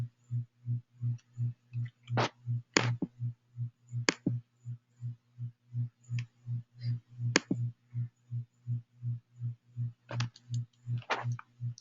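Computer mouse clicks while saving a form in a software demo: a handful of sharp, close clicks scattered irregularly over a steady pulsing electrical hum, with no talk.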